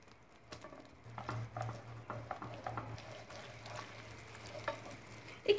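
Butter and tomato paste fry in a pan, giving a quiet, steady sizzle broken by soft stirring taps and scrapes.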